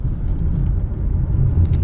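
A Ford Mondeo with a 2-litre petrol engine pulls under acceleration, a steady low engine drone with road rumble heard from inside the car, loud and continuous without talk.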